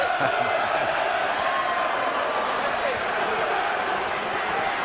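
A large boxing arena crowd at the 1999 Lennox Lewis vs Evander Holyfield heavyweight fight keeps up a steady wash of cheering and applause, with a commentator talking over it throughout.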